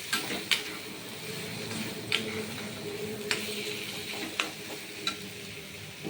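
Soybean chop filling fries in a pan with garlic and ginger, giving a steady close sizzle broken by several sharp scrapes of a spatula against the pan, with no talking.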